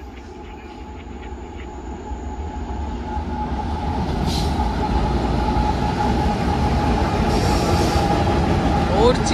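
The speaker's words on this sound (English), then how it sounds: "There is CXX M326 with 115 freight cars." A CSX M326 freight train hauling 115 freight cars passes nearby, a continuous heavy rumble of wheels and cars building steadily in loudness and holding, with faint clanks and squeals.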